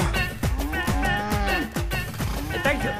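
Several cows moo one after another in long, drawn-out calls, loud and close, with a steady rumble of background noise underneath.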